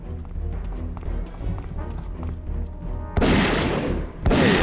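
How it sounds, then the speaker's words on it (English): Loud gunshots in the first-person brawler Zeno Clash. A booming shot blast breaks in near the end and another follows moments later, after a stretch of lower, rumbling game noise. "I'm gonna shoot now."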